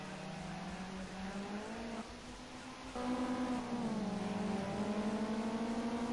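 Race car engines roar in a Project Cars 2 race, several cars droning and shifting pitch together as they power out of a chicane, steady and loud throughout with no talk.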